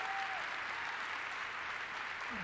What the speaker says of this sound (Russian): Здесь они опять сейчас очень хлопать